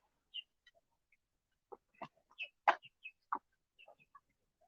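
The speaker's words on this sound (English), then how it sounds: "So the ducks here are very, very friendly." Ducks in a castle park at Shuri Castle, giving a scattering of short quacks and clucks, some close and some softer, spaced irregularly with quiet gaps between calls.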